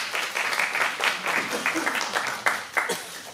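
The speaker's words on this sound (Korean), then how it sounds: "큰 박수 부탁드립니다." Audience applause at an SBS drama press conference photo session, a steady patter of many hands clapping with a few sharper individual claps, mixed with faint crowd voices throughout.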